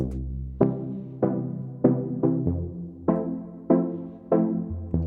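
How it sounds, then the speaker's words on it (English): A Juno-style synth from a Serum preset plays a sequence of plucked chords, eight distinct stabs each decaying quickly, clean and close with no voices. "It's a really beautiful Juno style synth, and since I don't have access to a Juno synth, I use Serum preset"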